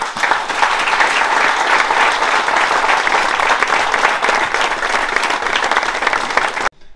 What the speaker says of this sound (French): Vous pouvez l'applaudir.